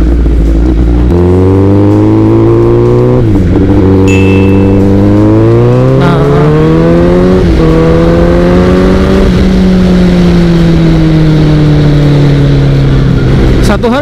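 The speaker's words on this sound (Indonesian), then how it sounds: "Dan di sini suara knalpotnya kenceng banget." A Honda CBR 1000 SP superbike exhaust revs loudly up close near the BSD circuit, the engine note climbing and dropping through several throttle blips and sustained high-rpm pulls, with a voice briefly heard over it.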